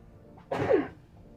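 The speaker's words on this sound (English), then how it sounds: "Gotta sneeze." A single sharp sneeze bursts out close by, a short breathy explosion lasting under half a second, with quiet room tone before and after.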